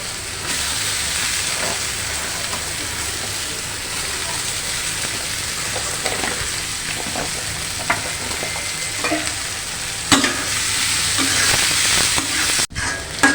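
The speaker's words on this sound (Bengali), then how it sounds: "ভালো করে ভাজা হয়নি, আর একটু ভেজে নেব" Chopped onions fry in mustard oil in a pan for prawn dopiaza, giving a continuous loud sizzle with occasional stirring scrapes and clicks and no talking.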